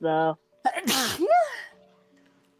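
A single sharp sneeze bursts out loudly up close, followed by people talking nearby during a tabletop role-playing game session.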